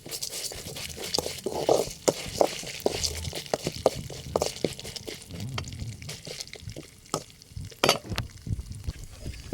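Black urad dal and chana dal dry-roasting in a pan for a ridge gourd chutney, stirred with scraping taps and light crackling throughout, with a few sharper knocks standing out, close and moderately quiet with no talk.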